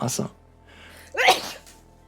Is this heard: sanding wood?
no